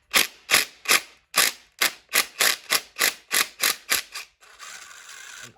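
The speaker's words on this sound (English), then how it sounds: "I like to use a drill, just because it's an impact and it pretty much just frees it up" A drill used as an impact tool loosens a bolt on a 5.3 LS V8 engine during teardown, with about a dozen sharp, evenly spaced rattling bursts followed by a steadier whirring run, loud and close with no talking.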